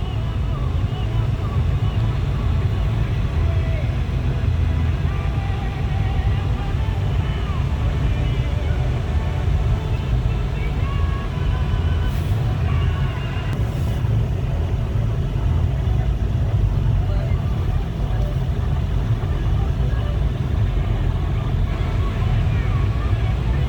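Low road rumble fills a car's interior as it moves slowly through traffic, a constant steady drone with occasional wind buffeting and faint voices in the background.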